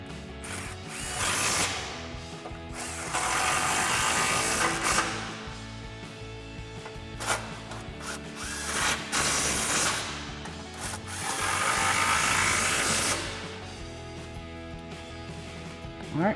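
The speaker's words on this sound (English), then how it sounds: "we can just grab our impact and 18mm socket and tighten down our mounts." An impact wrench with an 18mm socket tightens front sway bar mounts on a RAM 1500, firing in several loud, close, whirring bursts of a second or two, separated by quieter handling noises.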